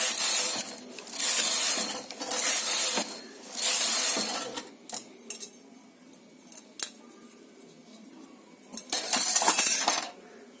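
A knitting machine works a sweater design: the carriage sweeps across the needle bed in four quick, rasping passes, followed by scattered clicks and clacks and then one more pass. The sound is close, with no voices.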